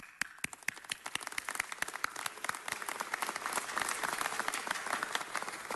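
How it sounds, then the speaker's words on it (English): An audience at a Nowruz celebration breaks into applause, starting with scattered sharp claps that thicken into steady, full clapping across the room. "You indeed deserve our gratitude and certainly a round of applause"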